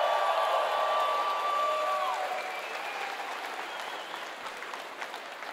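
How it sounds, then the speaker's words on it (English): A keynote audience at TwitchCon 2017 claps and cheers, with whoops and a shout rising at the start before the applause slowly tapers off, heard alone with no speech. "That was a really loud cheer."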